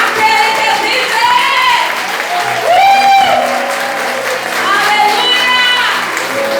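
A congregation at a Portuguese-language church service applauds loudly, with raised voices and cheering rising over the sustained clapping.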